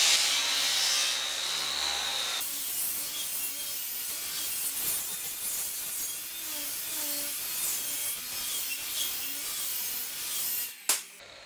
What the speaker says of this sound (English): This is a 50 grit on a 7-inch grinder. It's gonna grind out real quick